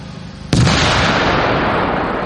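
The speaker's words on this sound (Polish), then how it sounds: "możemy przygotować neutralizację znalezionego w plecaku przedmiotu, który mógłby być urządzeniem wybuchowym" A controlled neutralization blast destroys a suspected explosive device found in a backpack during a joint police, border guard and fire service command exercise. One sharp, loud boom hits after half a second, followed by a sustained roaring rumble.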